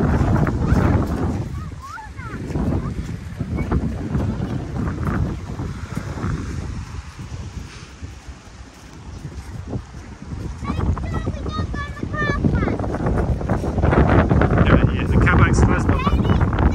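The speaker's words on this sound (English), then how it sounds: "It's a bit windy over here around the corner." Strong gusty wind buffeting the microphone, rising and falling in loud rumbling bursts, with voices talking faintly underneath at times.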